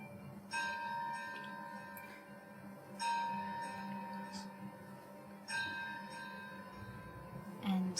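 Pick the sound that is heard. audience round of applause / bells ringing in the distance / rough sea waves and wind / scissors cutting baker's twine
bells ringing in the distance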